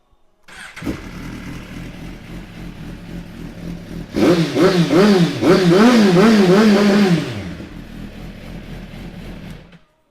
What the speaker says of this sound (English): I'm going to give it a start up in a second.